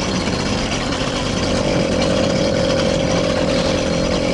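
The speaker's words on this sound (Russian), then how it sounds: "горячий двигатель, хорошо." A hot engine on an all-terrain bike runs steadily up close and pulls away with a constant loud drone and a rising tonal whine, no speech.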